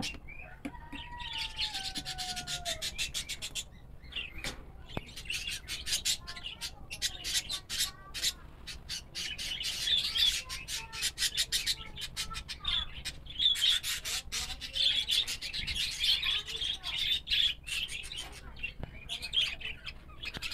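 Caged pet birds, a cobalt blue cock and a pied hen among them, chirp and tweet in quick, busy bursts in backyard DIY cages, close and lively, with some rustling as the nest is harvested.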